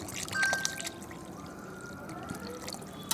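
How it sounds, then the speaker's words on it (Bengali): Water pours and trickles into a pan of minced mutton ghugni cooking with mutton fat, a faint, brief splash and dribble at close range. "ব্যাস এরকমই পরিমাণ একটু জল দিয়ে দিলাম"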